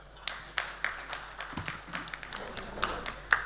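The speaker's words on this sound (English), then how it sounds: "give her a big round of applause" Sparse audience applause at a sugar and ethanol business conference session, a handful of distinct claps and taps spaced irregularly in a quiet room, fairly close and modest in volume.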